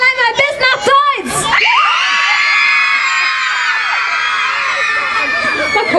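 A crowd at an event in Cologne shouts loudly together, with a few voices first and then a sustained massed yell that holds steady, near and loud.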